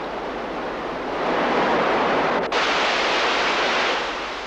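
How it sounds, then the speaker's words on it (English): Steady rushing water, a broad continuous wash as the Froy Brook pours over a massive granite bar in a shallow waterfall, with a brief dip midway. "The Froy Brook spills over a massive granite bar, creating a shallow waterfall."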